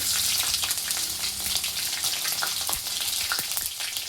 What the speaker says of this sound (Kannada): ಎಣ್ಣೆ ಕಾದಿದೆ. ಸ್ವಲ್ಪ ಜೀರಿಗೆ ಹಾಕ್ತಾಯಿದ್ದೀನಿ. ಸ್ವಲ್ಪ ಸಾಸಿವೆ ಹಾಕ್ತಾಯಿದ್ದೀನಿ.